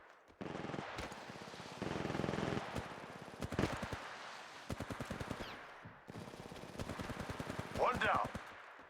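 Rapid automatic gunfire rattles in bursts during an Apex Legends match, some sharp single shots among them, with game sounds and effects between the volleys.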